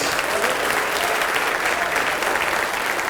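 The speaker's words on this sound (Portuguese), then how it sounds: "Vamos aplaudir mais ao nome de Jesus." Steady, loud applause from a large church congregation fills the whole stretch, a dense continuous clatter of clapping hands.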